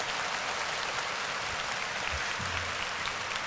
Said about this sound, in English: We'll give you a little applause there.